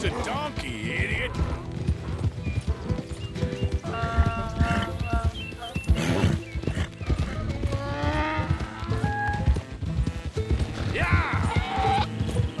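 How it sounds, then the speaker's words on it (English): A donkey in the Red Dead Redemption 2 video game clops along with steady hoofbeats, with a possible whinny, under overlapping voices and game music throughout. "It's just a donkey, idiot."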